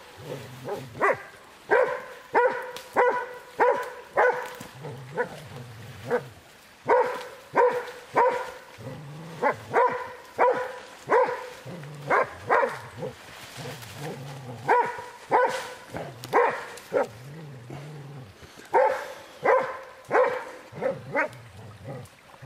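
Hunting dog at a German hunt barking in repeated bursts with whimpers and yips between, fairly close and loud, sounding eager throughout.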